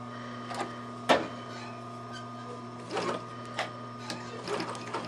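A Bernina 950 sewing machine stitches a seam on a dress, with short bursts of rapid mechanical whirring and clatter at close range, separated by pauses over a steady background hum.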